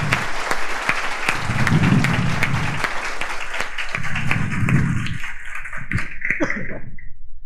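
An audience applauds, a dense, loud wash of clapping, with a few louder murmuring swells of crowd voices beneath it, fading out near the end.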